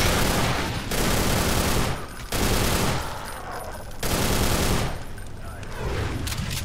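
Machine gun fire in Brutal Doom, with loud sustained bursts of rapid shots separated by short gaps, roughly four bursts close up.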